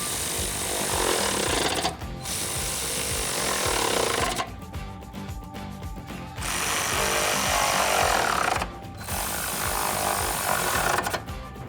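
A power tool runs in loud, sustained bursts separated by short pauses while bolts are tightened with a socket extension on the step brackets of a Toyota Tacoma Double Cab's side step bars.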